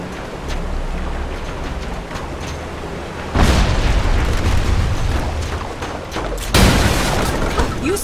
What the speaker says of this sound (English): Little things, these bombs. Just try to stay clear of the blast.